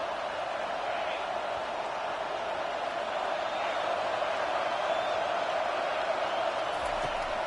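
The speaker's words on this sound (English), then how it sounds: "Decibels rising as the crowd gets behind this defense on 3rd down." A football stadium crowd roars on 3rd down against a defense, a steady, dense wall of cheering and noise that holds level throughout.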